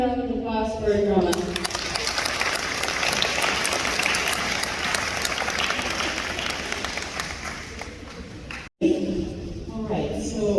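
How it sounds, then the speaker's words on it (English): A junior high awards ceremony audience gives a long round of applause for the drama award recipients, with loud steady clapping that fills the room for about eight seconds before voices resume near the end. "One more round of applause for drama."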